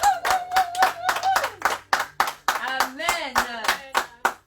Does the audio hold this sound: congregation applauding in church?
yes